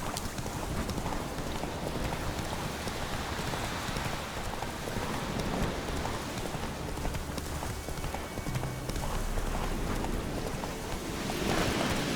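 The horse Roach gallops steadily in The Witcher 3 video game, with continuous rhythmic hoofbeats over a dense outdoor ambience throughout.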